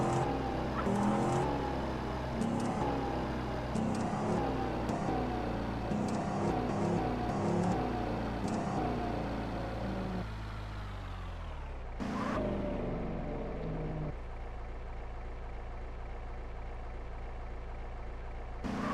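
A car engine drones steadily with shifting revs and gear changes, loud and continuous, then eases to a lower, quieter hum toward the end.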